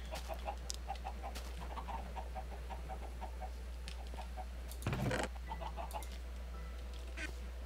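Minecraft chickens cluck in short, repeated bursts over a low steady hum, with a brief louder scrape near the middle and more clucking afterward.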